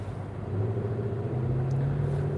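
A Ford Mustang's engine rumbling nearby in traffic, a steady low droning growl with a faint rising tone, heard from inside another car with no talking.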